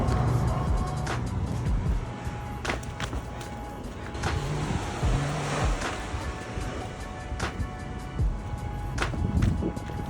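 Pacific Ocean waves roll onto a Malibu beach in a steady, loud wash of surf, with breaking crashes rising through the constant roar and no voices.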